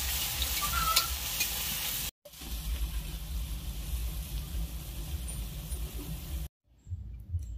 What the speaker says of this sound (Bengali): এখন আমি পকোড়াগুলো দিয়ে দিচ্ছি। আর এই পকোড়াগুলো হচ্ছে একদম লো আঁচে ভাজবো